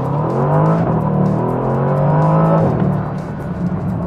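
A 2020 Bentley Continental GT accelerates hard in sport mode, its engine note rising loudly and smoothly in pitch for a few seconds before easing off, with no voices.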